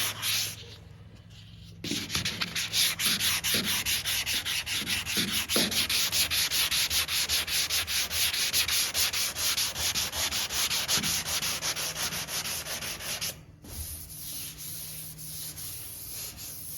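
Steady, close hand block sanding with 320-grit paper across the painted roof of a Chevelle show car, a continuous loud rasping scrape with a brief pause near the end, no talking.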